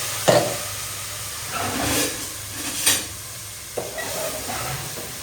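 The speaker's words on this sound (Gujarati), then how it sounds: "હવે એમાં નાખવાનું છે ટમેટાની ગ્રેવી." Tomato gravy poured into a pan of sizzling cumin, asafoetida and ginger for Punjabi chole, giving a loud hiss that settles into steady frying, with a few stirring scrapes and clinks close by.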